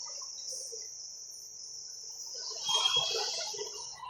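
A reconditioned air conditioner in a Toyota Traviz gives off a steady high-pitched chirping whine, fairly faint and continuous, growing a little busier toward the end with some low rumbling underneath.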